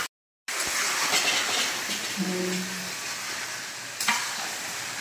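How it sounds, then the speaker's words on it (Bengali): Chicken sizzles steadily in a hot pan while being stirred, with scraping and shuffling over the hiss after a brief silent start, and a sharp knock near the end. "এবার চিকেনটা আমরা কিছুটা নাড়াচাড়া করে এবার ঢাকা দিয়ে দেব।"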